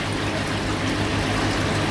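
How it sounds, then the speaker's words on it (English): Water leaking from the top of a fish tank filter and dripping down, heard as a constant close hiss and trickle with a steady pump-like hum underneath. "Leak at the top, dripping down."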